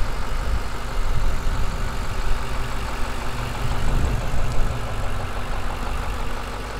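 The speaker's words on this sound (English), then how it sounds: "Very smooth, consistent idle. It sounds great." A 2006 Ford Mustang GT sits idling close by, its engine giving a smooth, even, low rumble that holds steady throughout with no voices.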